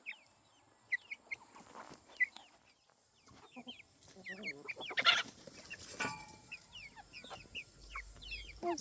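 Homestead chickens cluck and chirp nearby in short, scattered bursts, with soft rustling and a brief quiet voice in the background.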